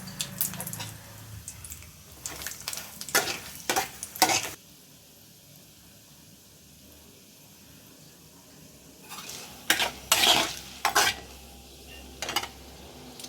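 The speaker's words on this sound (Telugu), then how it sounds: "కొంచెం ఆవాలండి కొంచెం జీలకర్ర అండి ఇప్పుడు శనగపప్పు మినప్పప్పు ఆ తర్వాత ఎండుమిర్చి కూడా వేసేస్తున్నా" Mustard seeds, cumin, chana dal, urad dal and dried red chillies sizzle in hot oil in a pan for a Guntur-style tempering, with bursts of stirring and spoon scrapes separated by quieter stretches of low frying hiss.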